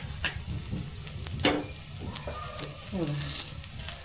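Rava appe frying in a little oil in an appe pan, a steady soft sizzle with light scraping and stirring sounds, close and fairly quiet, with faint background noise.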